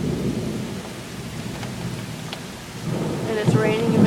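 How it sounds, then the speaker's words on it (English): A thunderstorm overhead, steady heavy rain hissing throughout with low rumbling thunder swelling louder near the end, close and enveloping. "I'm pretty sure the storm is like right on top of us"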